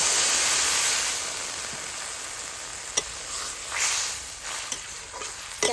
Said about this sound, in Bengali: মশলার সঙ্গে ভালো করে কষিয়ে নিয়েছি। এবার আমি দিয়ে দেবো জল